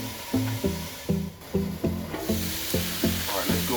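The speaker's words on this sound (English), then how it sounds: "let's go ahead and get these onions sauteing" Onions sizzle steadily on a George Foreman grill set up outdoors, a continuous frying hiss with a rhythmic, tonal pulsing layered over it and no talk.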